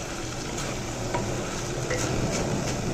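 Fish coated in masala being stirred in a frying pan, giving a dense, continuous sizzle with scraping and occasional soft clinks of the stirring utensil, loud and close.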